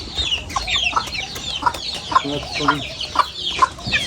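Hens and other poultry cluck while eating side by side, a run of regularly spaced clucks near the microphone with some lower murmuring between calls and a faint voice at times.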